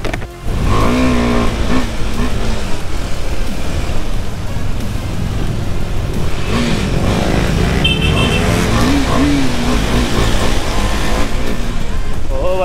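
KTM Duke 390 and Duke 250 motorcycles race through city traffic, their engines droning loud and close throughout with rising and falling revs, mixed with wind rush, and voices talking over them.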